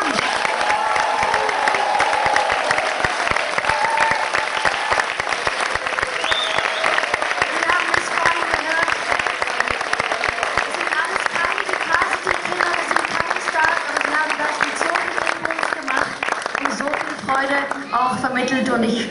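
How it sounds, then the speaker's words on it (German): A large audience at a press conference applauds the children with strong, sustained clapping mixed with crowd noise and a few cheers, lasting nearly twenty seconds while voices murmur underneath. "einen richtig starken Applaus für die Kinder, weil sie haben das wirklich ganz, ganz toll gemacht."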